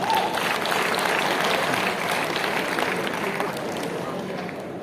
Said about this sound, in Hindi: जोरदार तालियां सभी के लिए।